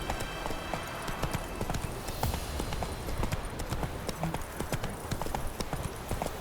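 Roach, the horse in The Witcher 3, trots with quick, steady hoofbeats that clip-clop close by throughout, while a voice speaks briefly over them.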